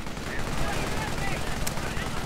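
Rapid gunfire from a tankette rattles on in a war video game, a dense continuous burst of shots with a sharp crack near the end.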